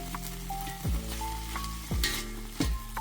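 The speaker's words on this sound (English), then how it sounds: "Saute those just a little bit before we add the other mixture in here." Vegetables sautéing in a pan with a sprinkle of sea salt, giving a continuous close sizzle with a few louder bursts and clatters of stirring, alone without speech.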